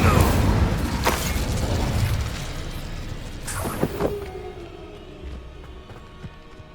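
A fire spell, Incendio, is cast in a Harry Potter wizarding video game, bursting out with a loud whoosh and popping blasts. Crackling energy rises around the four-second mark, then a lighter hiss trails off.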